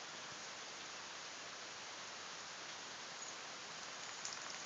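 Steady rain falling outdoors, an even, dense hiss of drops continuing without a break, fairly faint and without talk.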